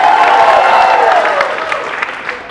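An audience at Philly Fest 2016 claps for a mousetrap stunt option, a thick, loud burst of applause with scattered cheers that gradually thins and fades.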